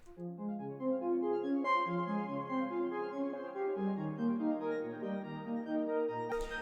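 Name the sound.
synth arpeggio with halftime effect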